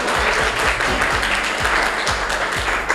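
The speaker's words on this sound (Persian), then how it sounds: "عزیزا تشویق کنن." An audience at a comedy troupe's award ceremony claps steadily and loudly for the full few seconds, a dense wash of applause with no voices above it.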